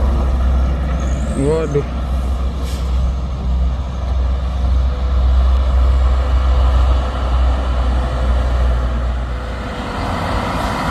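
A loaded truck accelerates uphill on a hill, its engine a steady loud low drone throughout, with a short air-brake-like hiss early and brief voices over it.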